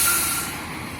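An Engine 21 fire department truck gives a loud, close air-brake hiss that fades slightly over a second, with a low engine rumble beneath.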